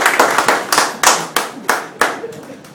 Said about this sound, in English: Can we have a little bigger round of applause for him?